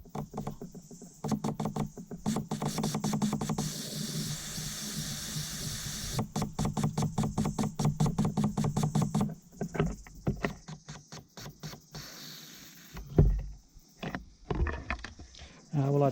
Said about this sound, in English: we're going to put some voltage on this, and we're going to see if it squirts out nice and clear